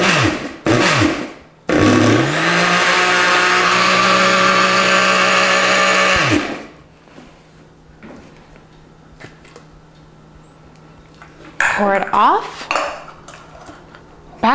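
A blender pulses hot sauce in small batches with the lid held firmly on: a short burst, then a longer loud whirring run that stops abruptly, followed by quiet clinks and handling of the jug.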